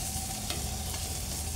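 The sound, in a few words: mixing grated potato into coriander stuffing mixture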